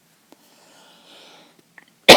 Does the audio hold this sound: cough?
yes